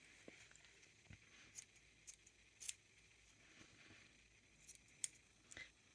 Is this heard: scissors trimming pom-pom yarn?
yes